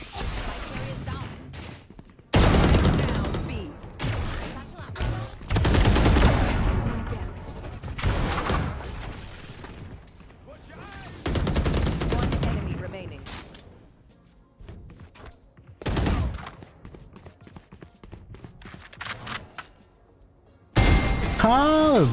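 Vandal rifle fire in a ranked Valorant match: loud, rapid bursts of gunfire in repeated clusters separated by quieter gaps, mixed with game impacts and effects.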